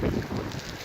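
Outdoors at a canyon campsite, a wind gust buffets the microphone with a low, rumbling roar that is loud and close, then eases slightly over less than a second.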